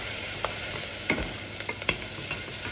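Onions sizzle steadily in a hot pan, a constant close frying hiss punctuated by a few soft clicks and scrapes of stirring, with no talking.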